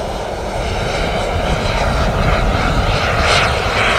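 A radio-controlled turbine jet model plane comes in to land on a runway, its engine a loud, steady whining roar that holds throughout with a slight swell near the end.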